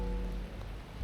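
Steady rain falls in Hibiya Park, Tokyo, near the old public hall building, a dense, even patter on surfaces with no voices, close and continuous for about a second.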